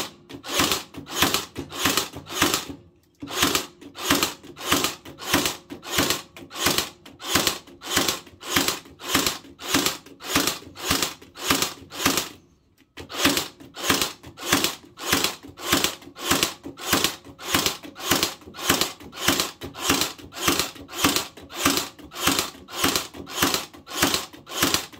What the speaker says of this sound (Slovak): vyskúšame ich naklincovať do dreva v opakovanej frekvencii bez prestávky